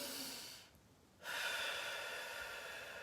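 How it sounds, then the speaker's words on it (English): A deep, audible breath taken in and then let out in a guided grounding exercise: a soft, close airy inhale, a brief quiet pause, then a longer, steady breathy exhale with no talking. "And breathe in. And exhale."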